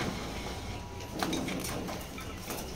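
Soft cooing from racing pigeons, with low murmuring calls heard faintly against a steady background hum and a few light clicks.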